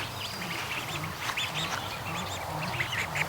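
Ducklings and goslings outdoors give a steady stream of soft peeping and quacking, moderately close, with a constant busy background and no talk.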